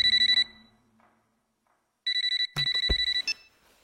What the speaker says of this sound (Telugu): ఇప్పుడు మ్యాచ్ ఫోన్ చేస్తాడు